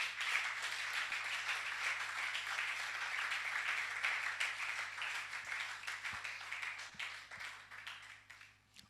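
A church congregation applauds and cheers the Lord in steady, continuous clapping for the full stretch, fairly distant and reverberant, thinning out slightly near the end.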